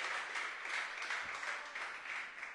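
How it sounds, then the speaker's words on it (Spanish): A church congregation applauds in a sustained, fairly faint wash of distant clapping that continues evenly and has no clear voices over it. "Dele un aplauso a Cristo"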